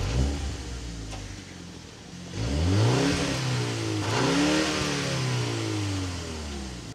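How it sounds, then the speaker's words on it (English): A 2025 BMW M135i's 2-litre turbocharged engine, rated at about 300 horsepower, revs loudly and close up, climbing through two sharp rises in pitch before settling into a sustained, wavering drone. "Under the bonnet, you do get, of course, a 2-litre turbo engine,"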